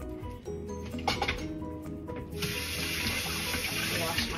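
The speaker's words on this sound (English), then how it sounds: "Wash my hands off," A kitchen sink tap gushes steadily as hands are rinsed off after handling feta, the water rushing loud and close, with clinks and kitchen sounds just before it starts.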